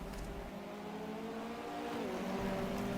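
A pure speed race car with great traction driving in the Project CARS video game, its engine droning steadily with a tonal whine that dips in pitch briefly before building again, faint and alone.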